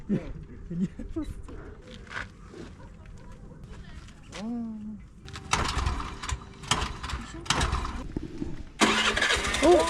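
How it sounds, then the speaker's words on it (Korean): Engine cranking and catching again after a failed start in India, a mid-pitched motor turning over amid street noise and bird calls, with people talking nearby. "왜 시동이 안 걸리지? 잠깐만. 다시 껐다 켜봐."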